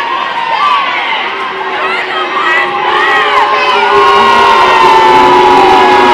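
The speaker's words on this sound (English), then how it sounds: "The whole crowd just booing the entire refereeing staff" Basketball crowd in a gym booing the referees after a controversial blocking foul, a loud sustained mass of voices with whoops and shouts rising and swelling throughout.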